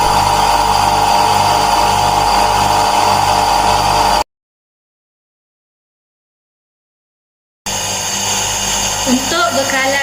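Three-phase induction motor running steadily on a lab bench, a continuous loud hum and whine filling the first four seconds, cutting to silence, then returning with a faint voice speaking over it.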